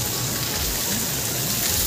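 Water from a small mountain waterfall near a bridge in the Kapkote hills pours in a steady, close, broadband rush with no talking.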